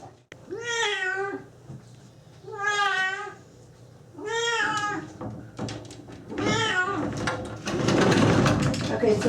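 A blue Burmese cat yowls loudly in repeated drawn-out meows during a bath, four distinct cries close by followed by splashing water and rustling.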